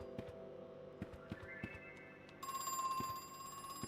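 A telephone rings in the video game Crow Country, a faint metallic ringing that comes in partway through and grows a little louder over quiet, ticking game ambience.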